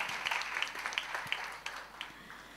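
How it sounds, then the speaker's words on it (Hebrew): An audience at a family-day show of adult dance troupes in Herzliya gives a fairly faint round of applause, with scattered individual claps snapping out over a soft, continuous clapping wash. "כפיים, כן."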